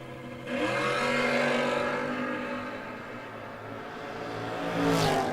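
A Camaro drag racing car roars down the track at full throttle, engine note rising through the run with a second car's howl sweeping in near the end, loud and close with no talking.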